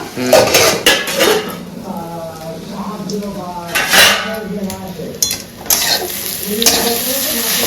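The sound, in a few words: covering a cooking pot with a lid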